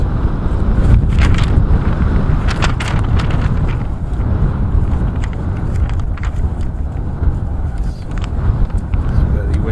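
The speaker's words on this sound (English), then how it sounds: "It's very windy conditions here" Heavy wind at Burrowhead buffets the microphone with a constant low roar and rumble, steady and loud throughout.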